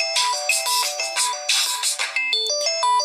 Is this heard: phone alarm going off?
yes